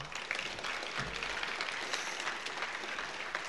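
Brief burst of audience applause at a university library speaker series event, a short stretch of steady, moderately loud clapping.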